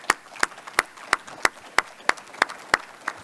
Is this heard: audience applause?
yes